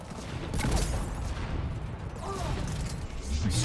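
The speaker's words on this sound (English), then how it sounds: "Inferno grenade." An inferno grenade explodes in Mass Effect Legendary Edition combat, giving a burst of crackling blasts and mechanical clatter over a dense battle din.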